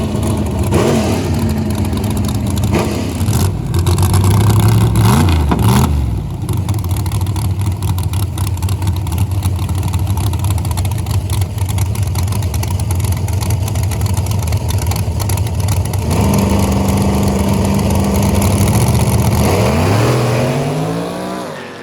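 Small-tire no-prep drag race car at Thundervalley roars off the line, a loud engine howl rising through the launch and holding a steady blare down the track before fading, with no talk.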